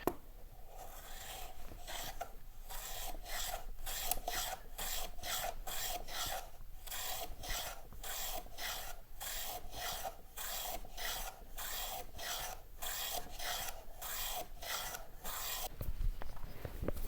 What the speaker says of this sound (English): I'm gonna put a 45 chamfer right here and here to separate that